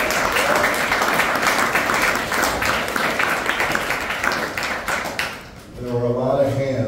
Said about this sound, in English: join me in just clapping it up for every single one of you